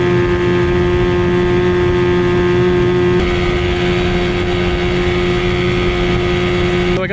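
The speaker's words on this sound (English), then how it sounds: "Here's the next engine. She's running really good, so let's take it for a little spin." A military outboard engine runs steadily on a boat, a loud continuous drone with a strong fixed tone and harmonics that holds through the clip, no speech over it.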